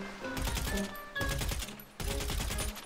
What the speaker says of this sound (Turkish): Dur bakayım, lavaboya atış edelim